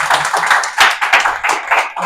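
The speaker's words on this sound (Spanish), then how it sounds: "démosle un fuerte aplauso nuevamente" Applause from an audience at a Spanish-language academic talk on scientific replicability, steady and fairly loud, with pulses of clapping close by over a couple of seconds.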